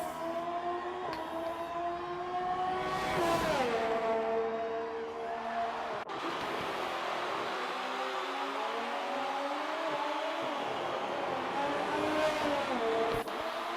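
Formula 1 car engine from an F1 racing video game, a steady high-pitched whine that rises and falls through gear shifts as the car drives on, with no talk over it.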